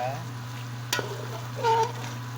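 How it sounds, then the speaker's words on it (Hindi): Mutton frying for biryani, a soft sizzle in a pot with a steady low hum underneath, one sharp clank of a utensil and a brief stirring scrape, all fairly quiet. "अभी गोश्त फ्राई हो रहा है।"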